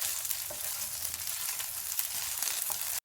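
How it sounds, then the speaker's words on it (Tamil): Taro root pieces frying in oil on a tawa over a medium flame, a steady close hiss and crackle with faint stirring, no voices. "அடுப்பை மீடியம் ஃப்ளேமில் வச்சுட்டு 2 பக்கமே காய் நல்லா டோஸ்ட் ஆகிற மாதிரி வதக்கி எடுத்துக்கணும்."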